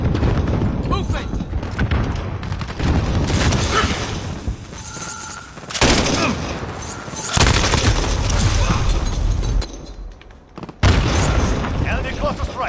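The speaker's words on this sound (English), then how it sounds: "Enemy cluster strike. Take cover." Heavy booming explosions and gunfire from a cluster strike in a first-person shooter video game, several loud blasts in bursts with brief gaps, under game voice callouts.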